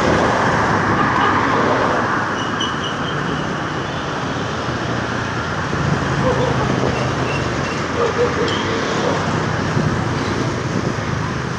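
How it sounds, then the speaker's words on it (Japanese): Dense street traffic on Gorordo Avenue in Cebu, a steady broadband roar of passing vehicles and engine rumble that holds at a constant level throughout, with some wind buffeting and faint background voices mixed in. "結構もう交通量が多いですね。"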